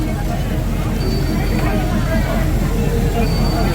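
Inside an old, non-air-conditioned passenger train in Thailand, a steady low rumble of the moving carriage runs throughout, with a hubbub of nearby passengers' voices mixed in over it.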